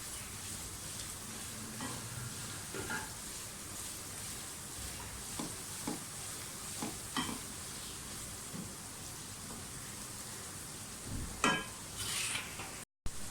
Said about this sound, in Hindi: लहसुन अदरक अच्छी तरह से फ्राई हो गया हरी मिर्चों के साथ